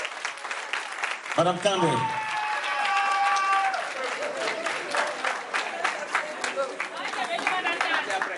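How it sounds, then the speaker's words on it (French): An audience at a Guinean independence anniversary celebration applauds Madame Kandé Rougiatou, with lively clapping and cheers rising over a spoken introduction, a voice calling out and a tonal, whistle-like sound partway through. "je vais vous demander d'applaudir très très fort Madame Kandé Rougiatou"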